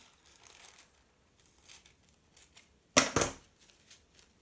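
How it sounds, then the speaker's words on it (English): Scissors snipping along tissue paper to make a tassel fringe for a toilet roll craft, soft crinkly cuts at close range with one louder crisp burst of rustling, no talk. "then you're going to take your scissors and snip along to create almost a kind of tassel effect."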